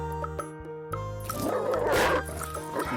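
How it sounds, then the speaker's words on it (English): A dog barks and yips in a few quick bursts over a busy music backing, moderately loud and close. "Dog."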